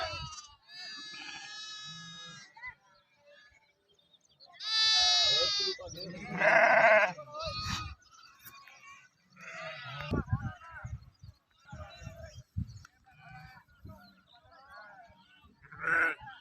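A flock of sheep bleats in repeated, wavering calls, some loud and close and others fainter, including young lambs, with people talking among the animals across the scene.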